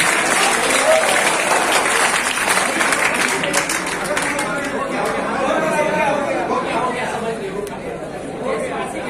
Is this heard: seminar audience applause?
yes